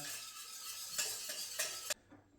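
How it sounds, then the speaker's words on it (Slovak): Spoon stirring a roux with paprika in a pot off the stove, giving soft scraping swirls with a few sharper clinks against the pot, faint and alone, ending abruptly. "Rozmiešam už mimo sporáka."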